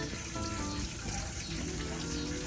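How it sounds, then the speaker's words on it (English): Steady running water pours from a tap or hose to refill a backyard snapping turtle pond, a continuous close gush with no pauses. "on the snapping turtle pond to get some cleaner water in and get that dirtier water out"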